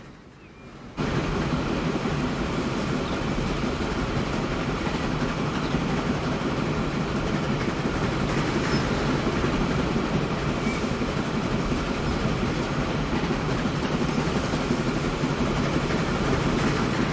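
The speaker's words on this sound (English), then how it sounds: "Oh, our train's already gone for a wander." A train running in the transport simulation Transport Fever 2, a steady rumbling roar with rhythmic clatter that starts abruptly after a quiet second and continues loud and unbroken for over fifteen seconds.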